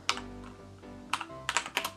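Keys clatter on a computer keyboard while someone enters a Windows search on Google, a few quick taps near the start, then a pause, then a dense burst of clicks toward the end over a low steady hum.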